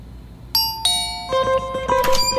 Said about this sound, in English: Ding dong, who's there?